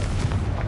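A brief, dense boom from a Confringo fire spell explosion in the game Hogwarts Legacy, a short burst of low, heavy rumble in a catacomb.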